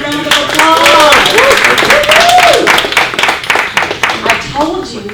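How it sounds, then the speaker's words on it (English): An audience at a live speaking event claps in steady applause, close and fairly loud, while a voice talks over the clapping. "let's give Jonathan another round of applause."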